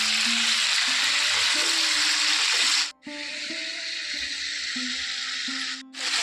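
Grapes frying in hot oil while stirred by hand give a bright, steady sizzling hiss, close and loud, with two brief breaks as the stirring pauses.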